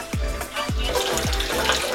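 Kangen water at pH 9.5 runs from a tap in a steady close splashing stream, with a few low gurgling swoops as the flow shifts.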